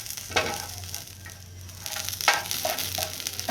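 Green chilies sizzling in a pan while being sautéed for Maharashtrian thecha, a steady soft frying hiss with occasional stirring scrapes, fairly quiet and without talk.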